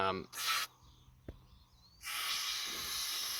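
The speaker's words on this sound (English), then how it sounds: "So we've sprayed that on in both of them, they're both dripping." Rust treatment sprayed onto the inside of a car chassis, heard as a short hiss from the spray can followed by a longer, steady close spray hiss.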